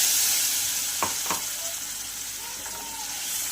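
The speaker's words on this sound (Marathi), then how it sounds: "आणि परत हे 1 ते 2 मिनिटं छान असा मसाला भाजून घ्यायचा आहे" Masala paste for egg curry, loosened with a little water, sizzling steadily in a pan, with a couple of sharp spatula stirs near the start, close and fairly loud with no voices.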